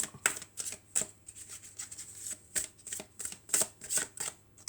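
Tarot cards shuffled by hand in a quiet room make a fast run of soft, crisp riffles and slaps, close and rhythmic, with no talking.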